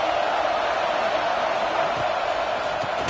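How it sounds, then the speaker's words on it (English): Stadium crowd noise from an NCAA college football video game, a steady dense roar of a fired-up home crowd that holds evenly throughout without breaks. "It's early, but this crowd is fired up. Listen to this noise here."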